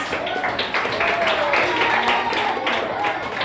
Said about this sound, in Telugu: Claps claps.